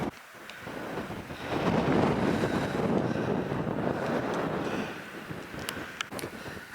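Strong wind buffets the microphone on the exposed summit of Conic Hill above Loch Lomond, Scotland, a steady roaring rush that swells louder in the middle and eases toward the end, with no talking.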